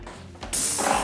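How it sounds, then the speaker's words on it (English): A Wagner Control 150M airless paint sprayer fires a short, loud burst of paint, with a soft mechanical click at the trigger followed by a sharp, sustained hiss right up close. "The spray gun should be triggered by turning it on and off with each stroke."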